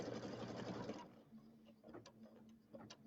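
An embroidery machine sews out a design, running loudly for about a second before dropping to a quieter hum with faint ticks and clicks, close by, with a voice briefly audible.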